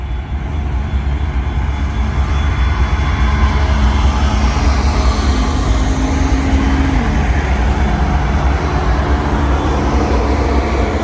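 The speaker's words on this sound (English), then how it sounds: "Yeah, it's just a heavy junk train." Heavy Union Pacific freight train passing through Cajon Pass, a loud continuous rumble of wheels and engines close by, steady throughout with a faint horn-like tone partway through.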